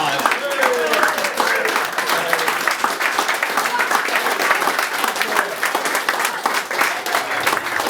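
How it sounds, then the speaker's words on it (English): Loud, sustained applause from a dinner audience at an awards event, with individual claps audible and some crowd murmur and voices underneath throughout. "Give me a round of applause."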